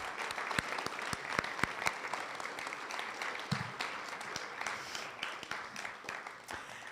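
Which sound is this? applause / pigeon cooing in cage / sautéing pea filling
applause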